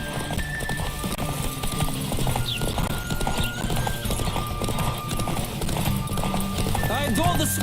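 Hooves clip-clop in a steady galloping rhythm while a horse neighs and whinnies repeatedly, with voices speaking over the running, in the video game The Witcher 3.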